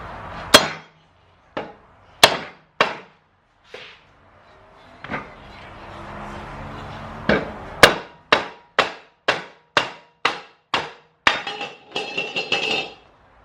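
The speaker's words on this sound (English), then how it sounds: "I'm just gonna take my microfiber towel and then pound the bottom barrel off first" A mini sledgehammer pounds the bottom barrel off a wheel through a microfiber towel, sharp close knocks coming singly at first, then in a steady quick run of about a dozen blows, with no talk.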